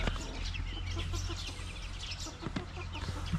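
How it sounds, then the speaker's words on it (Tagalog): Small chicks in a backyard give faint, scattered peeps and soft clucking-like calls, quiet and close, with no talk over them. "Ito naman yung alaga nating mga sisiw noon na halos walang mabuhay."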